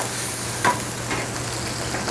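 A USDA Choice New York steak, marinated, sizzling in a pan before oven roasting, giving a brief, steady close hiss with a small clatter partway through.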